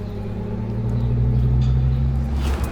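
Mercedes-Benz GLE 450 4MATIC engine idling quietly, a steady low hum and rumble heard from inside the cabin, even and continuous with no voices.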